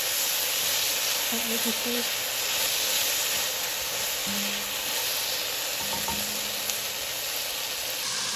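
Tomatoes for pork sinigang sauté in a pan with a dense, continuous sizzle and hiss, close and steady throughout, with faint bits of voice underneath.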